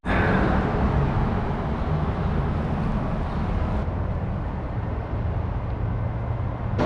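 Steady, loud road traffic rumbles continuously near a park in an industrial stretch of Melbourne, Australia, close to a large electricity pylon, with no talk over the dense vehicle drone.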